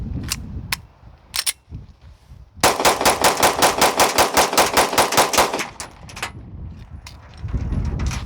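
A rifle fires rounds through loaded magazines: a few separate shots, then a fast, evenly spaced string of about sixteen loud reports over three seconds, followed by scattered shots and mechanical handling noise.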